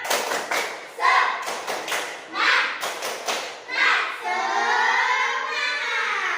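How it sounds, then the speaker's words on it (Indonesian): Classroom spirit clapping (tepuk semangat) rings out as a rhythmic pattern of sharp claps and thumps from a group of children, with a young voice and shouting joining in at the end. "Tepuk semangat."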